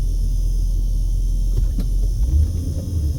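Cars speed past on a Las Vegas road away from the Strip, giving a loud, heavy low rumble of traffic that swells near the end as vehicles rush close by.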